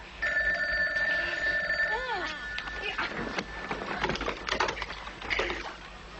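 A steady electronic telephone tone rings for about two seconds, then gives way to clattering handling noises and brief movement sounds nearby.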